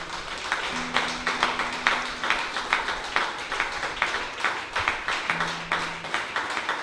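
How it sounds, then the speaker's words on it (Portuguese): A church congregation claps together in a steady, rhythmic beat, many hands sounding fairly close. Faint sustained keyboard-like tones drift underneath the applause. "Aplauda o Senhor, igreja"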